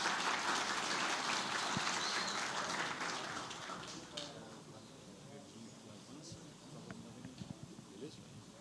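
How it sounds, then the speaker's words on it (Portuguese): An audience at an aviation event claps for a Nexatlas talk. The applause is dense at first, then thins and fades after a few seconds, and voices carry on underneath. "Uma salva de palmas aí, pessoal, para a Nexatlas"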